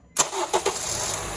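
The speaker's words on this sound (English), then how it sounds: "Go ahead and start the car." A 2010 Honda CR-V engine cranks and catches after a serpentine belt replacement, giving a sharp start followed by a couple of quick revs before settling into a steady idle, close and clear.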